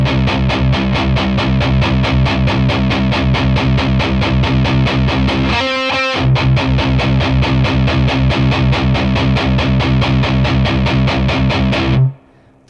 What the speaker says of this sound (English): you're going to do those 8th note chugs.